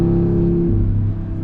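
An Audi RS3 with a catback exhaust holds a deep, loud droning rumble, then the tone drops as the revs settle, close and alone.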